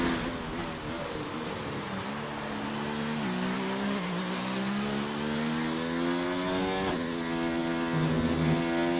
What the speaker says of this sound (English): it does seem like the cars are a bit louder